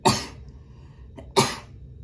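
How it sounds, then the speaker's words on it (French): A person indoors gives two sharp, explosive sneezes spaced just over a second apart, each a close, loud burst that fades quickly, with near silence between them. "j'avais envie d'éternuer"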